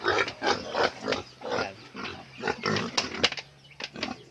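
Pigs on a family farm, just after feeding, grunt and squeal in a steady run of close, loud, rough calls, with no one talking.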